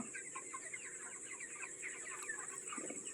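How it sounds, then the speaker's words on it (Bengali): Dark, ash-grey broiler chickens roaming a farm give off soft, scattered clucks and chatter at low level, steady throughout with no voices. "কত সুন্দরভাবে এই মুরগিরা বেড়াচ্ছে"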